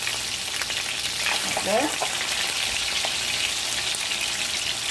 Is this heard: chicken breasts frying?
yes